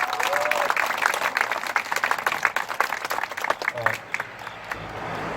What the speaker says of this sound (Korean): 권종윤 선생님 힘찬 박수로 맞이해 주시기 바랍니다.